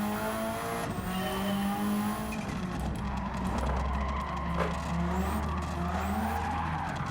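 A Renault Clio V6 in Gran Turismo 7 races hard, its engine note climbing and shifting through the gears alongside loud, sustained tire squeal and skidding, continuous and close throughout.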